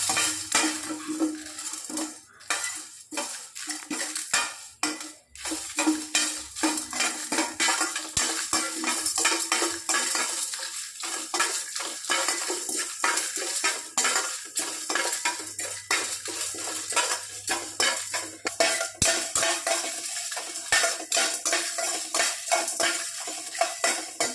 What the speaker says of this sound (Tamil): ஒரு பட்டை, ஒரு கிராம்பு லேசாக வறுத்துக்கலாம்